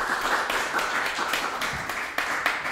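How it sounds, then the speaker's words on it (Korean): An audience at a Korean beer-education yeast seminar applauds a guest speaker being introduced, steady close-miked clapping with distinct individual claps standing out, fairly loud and without talking. "큰 박수 부탁드립니다"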